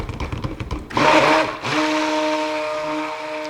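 Electric mixer whirring through apple soap batter, a short rough burst rising to a loud steady drone that holds to the end, with no talking.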